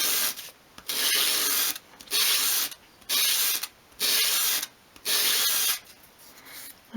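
A small 1/12th scale dolls house ladder shelf piece is swept across sandpaper in five steady, close strokes of loud gritty rasping, each about a second long, separated by brief pauses.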